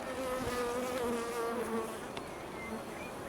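Honeybees buzz around an opened beehive after a difficult winter, a close, continuous droning hum with several overlapping wing tones rising and falling, no talk.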